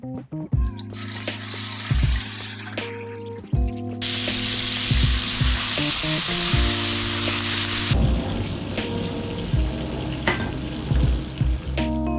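Salted pork belly sizzles and crackles steadily in oil in a pan, with occasional clinks and scraping, loud and close, with no voices.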